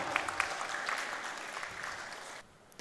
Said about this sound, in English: Can we all give him a huge round of applause,